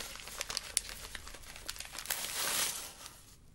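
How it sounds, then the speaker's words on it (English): Paper sticker on Lush bath bomb packaging being torn and crinkled up close, a continuous crackly rustle that swells briefly near the end before fading. "That sticker got destroyed."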